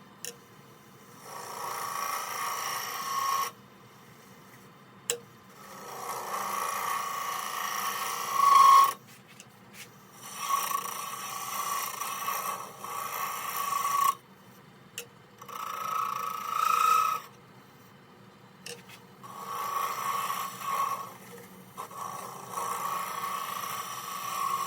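Wood turning on a lathe while shaping a baby rattle: bursts of steady whirring and scraping cut, separated by short near-silent pauses, with occasional faint squeaks.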